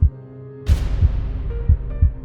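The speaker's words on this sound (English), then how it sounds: "Henrietta could sense the child's heartbeat." A heartbeat sound effect in an animated horror story, with deep, close, regular thumps pulsing about every third of a second over a low hum and a swelling tonal drone.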